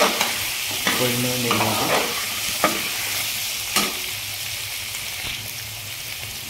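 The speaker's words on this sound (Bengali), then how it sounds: "তো এখন আমি একটু কুক করে নেব সবজিগুলো, মিনিমাম 10 থেকে 15 মিনিট" Vegetables and lentils for a spicy Punjabi khichuri sizzle steadily in a pan while a utensil scrapes and stirs in irregular strokes, with a brief spoken phrase near the start.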